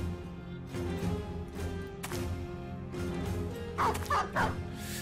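A dog in the video game Battle Brothers barks and yips in short bursts while fighting and biting, set against continuous low game music and combat noise.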